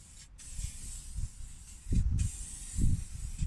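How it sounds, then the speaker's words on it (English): Steady hiss of an aerosol wax spray can during car strut replacement on a Nissan Almera N16, interrupted by two brief gaps, with low thumps and handling noises underneath, close and moderately quiet. "It's wax spray."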